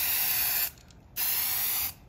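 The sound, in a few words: aerosol spray paint can spraying at full pressure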